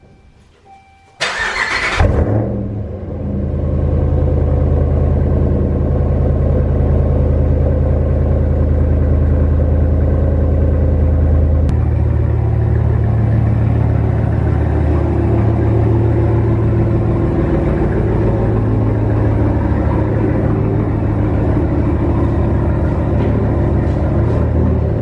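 2012 Ram 1500 Hemi engine started after a spark plug change: a brief crank, then the engine catches and settles into a steady, loud, deep idle rumble that shifts slightly in pitch partway through.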